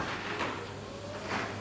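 A garage door triggered by a Sonoff Basic switch starts opening, heard as faint mechanical sliding and rumbling from a distance, low and steady with slight swells, and no talking.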